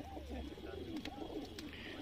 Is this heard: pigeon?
yes